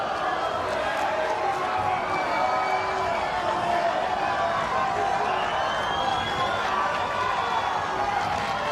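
A tennis crowd fills an arena with a steady, boisterous murmur and scattered shouts while a player interacts with the spectators, and voices carry throughout.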